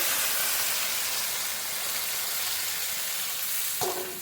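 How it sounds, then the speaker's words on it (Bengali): A pan of cumin and green chilli paste hisses in a loud, dense sizzle throughout, and a brief bump near the end as water goes in. "জিরে আর কাঁচা লঙ্কা বাটা একটু নেড়ে নিয়েছি এবার জল দিয়ে দেবো জল"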